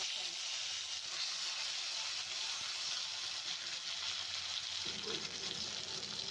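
Ginger-garlic paste with turmeric frying in hot oil for prawn malai curry, a loud, continuous close-up sizzle and hiss that holds steady throughout.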